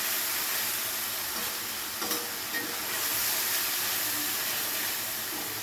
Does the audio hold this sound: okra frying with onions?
yes